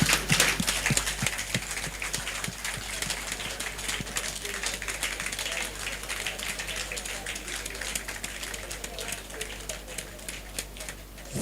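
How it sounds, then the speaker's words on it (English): Audience at a memorial lecture clapping in a large hall, a steady dense patter of many hands that starts strongest and settles into continuous moderate applause with a low hum underneath. "If you plan to clap, clap properly."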